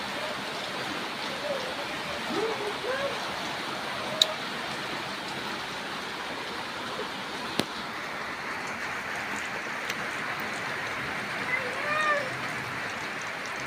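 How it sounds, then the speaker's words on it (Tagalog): Steady broadband hiss of rain falling, a constant wash with a few faint clicks and soft distant sounds beneath it. "umuulan po guys"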